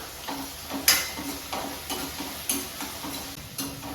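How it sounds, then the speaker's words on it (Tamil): Onion, tomato and fresh curry leaves sauté in a pan for a lentil-ball curry, a soft steady sizzle broken by occasional spoon scrapes and taps against the pan. "ஃப்ரெஷ்ஷாக கருவேப்பிலை எல்லாத்தையும் சேர்த்து இது நல்லா வதங்கி வரட்டும்"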